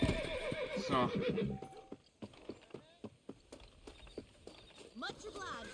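In a Wild West setting, a horse gives a loud whinny at the start. Steady clip-clopping hooves follow, with a second, shorter neigh near the end and a brief word spoken.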